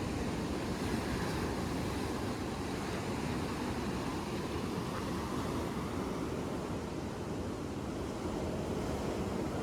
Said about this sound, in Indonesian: Suasana pagi di pantai Citepus ini agak lebih ke apa ke barat ya daripada pantai Citepusnya sendiri.